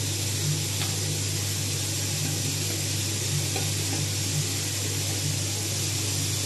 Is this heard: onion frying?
yes